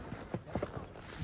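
Horses' hooves clip-clopping on a mountain trail at high altitude, a few soft irregular steps against a faint breathy background.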